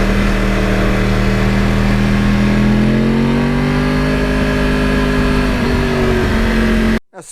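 A 2009 Yamaha R1 crossplane motorcycle with a quiet exhaust drones steadily up close, its engine pitch rising slowly as it accelerates before cutting off abruptly.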